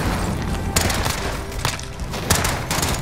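Gunfire in Call of Duty: Modern Warfare rings out in several sharp, loud bursts spaced roughly a second apart over a continuous noisy battle backdrop, with no talking.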